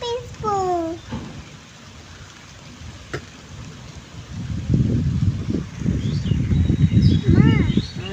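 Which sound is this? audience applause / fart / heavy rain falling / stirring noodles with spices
heavy rain falling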